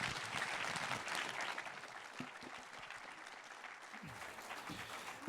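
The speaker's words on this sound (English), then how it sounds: "Let's have a round of applause again for Dr. Kirton and Prime Minister Clark." Sustained audience applause fills a hall at the close of a keynote event, a dense, even wash of many hands that stays steady and moderately distant throughout, with a few louder individual claps standing out.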